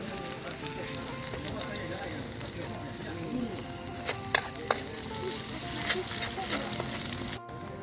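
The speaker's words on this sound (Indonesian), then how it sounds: "Tumis lagi." Belacan and red bird's eye chilies sauté in a pan with a steady, busy sizzle and crackle throughout, plus a few close utensil clinks near the middle.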